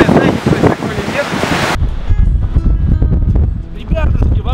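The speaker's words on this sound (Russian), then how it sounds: "вам ни хрена не будет слышно, потому что здесь ветер" Strong gusty wind buffets the microphone at a lakeshore at the foot of a mountain, a loud roaring rumble with a sudden shift partway through, while people talk over it.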